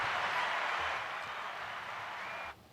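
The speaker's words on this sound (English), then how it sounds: "Give him some applause, man." Applause and crowd noise for a podcast guest, a broad steady wash of clapping that holds for about two and a half seconds before cutting off abruptly.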